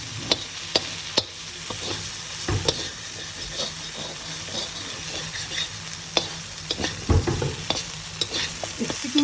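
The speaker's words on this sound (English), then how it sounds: "If you put it in the frying of the masala." Masala for aloo potoler dalna fries in a pan, giving a steady hiss and sizzle, while a utensil scrapes and taps against the pan at irregular intervals, close by and with no talking.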